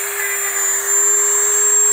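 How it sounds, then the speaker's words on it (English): A Dremel rotary tool grinding rust off an 18th-century cast iron kettle, a loud, steady high-pitched whine held throughout. "it's already done with the dremel tool, it's already done a great job of removing the rust off this side."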